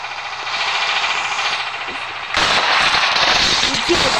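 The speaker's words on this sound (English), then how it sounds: "Grenade." A grenade goes off in the Melon Playground sandbox game: a sudden loud, broadband blast at mid-clip that gives way to a sustained roaring rumble, following a steady droning hum.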